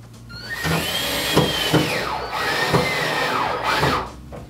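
Cordless drill driving a shelf screw straight into a wall stud, a loud close whirring with several short pitch sweeps as the motor speeds up and slows, then stops.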